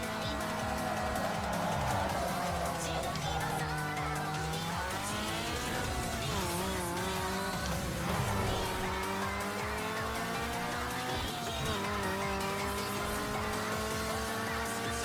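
In Need for Speed Underground 2, racing car engines roar and tires squeal continuously, with shifting revs and skids layered over a dense, loud mix that stays busy throughout.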